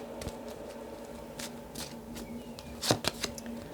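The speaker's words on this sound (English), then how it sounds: "So I'm going to put the cards down for each of these." Kipper cards are laid down one by one for a tarot reading, giving soft slaps and brisk papery shuffles close to the listener, clustered near the end, with no speech.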